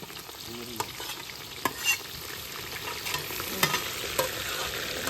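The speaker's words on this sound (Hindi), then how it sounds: "देखिए प्याज डाला रहा है।" Onions frying in a large pan while cooking chicken for a party, a continuous sizzle with intermittent sharp clinks and scrapes from stirring.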